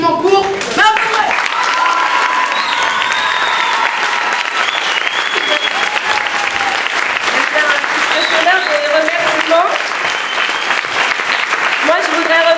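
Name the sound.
audience applause at a school show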